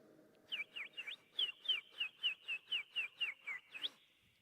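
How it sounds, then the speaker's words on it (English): Sparrows chirping over still water on an overcast morning: a quick, even series of about a dozen bright tweets, fairly close and clear against near silence. "No sound is heard, save chirping sparrows."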